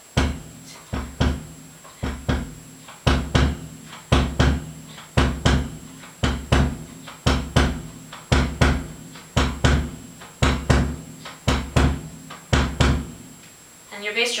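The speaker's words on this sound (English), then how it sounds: "And the bass drum is going to be an ostinato that sounds like this." Bossa nova bass drum ostinato on a drum kit, a repeating pattern of deep thumps in regular groups, loud and close, looping steadily through the clip with a faint brushy tick layered above.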